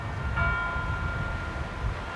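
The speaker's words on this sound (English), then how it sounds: "what a lovely little bell that is ringing over there somewhere" A small bell rings somewhere in the distance outside an old town building, faint steady tones under a low rumbling background.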